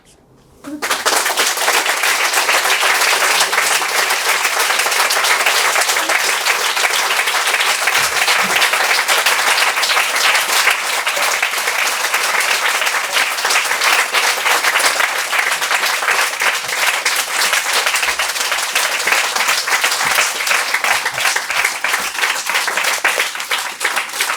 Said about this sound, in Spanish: Este aplauso entonces es para agradecer las palabras del homenajeado profesor Grino Rojo